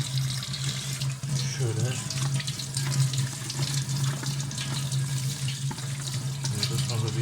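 Dishwasher parts are rinsed under a running tap at a sink, the steady splashing water stream constant and close throughout, with a voice speaking briefly over it.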